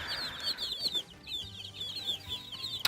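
Chicks give high, thin peeping calls in quick bursts, with soft clucking and faint background rustle; close and fairly quiet, no talking.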